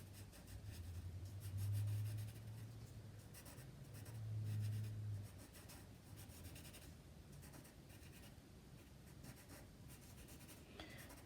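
A Sharpie marker drawing on paper, its felt tip making soft, steady scratchy strokes close up, with a faint low hum underneath during the first few seconds.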